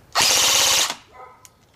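An SRC full-metal RPK airsoft gun fires a single loud, close full-auto burst of about three-quarters of a second at roughly 16 rounds per second, a rapid buzzing rattle that stops abruptly, followed by faint mechanical clicks.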